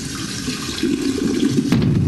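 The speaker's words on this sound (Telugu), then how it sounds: "మీరు చూసింటే ఇప్పుడు ఫ్లష్ టైప్లో ఒక సౌండ్." Water rushes and gurgles steadily like a toilet flushing, growing a little louder midway, with no talking.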